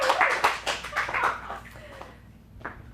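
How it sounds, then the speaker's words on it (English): A small audience at an adult dramatic acting showcase claps briefly, a sparse scattering of hand claps that fades out within a couple of seconds, followed by a near-silent room with one last lone clap. "Let's get a round of applause, everybody."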